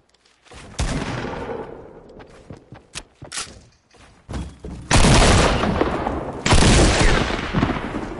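Gunfire in Fortnite rings out in several loud bursts, with scattered single shots early, then two long, intense volleys of rapid fire close by, mixed with booms and footsteps.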